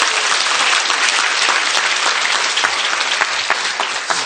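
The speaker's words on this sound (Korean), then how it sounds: "이때 박수 한번 쳐주시면 돼요." Loud, dense applause from a large audience at a motivational talk, a thick, continuous wash of clapping with scattered sharper claps standing out, sustained throughout.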